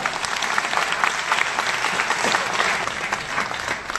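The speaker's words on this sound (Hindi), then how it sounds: "ताली तो बजाओ जोरदार।" An audience at a Delhi University poetry event claps steadily and loudly, a dense, even wash of applause that continues for the whole stretch.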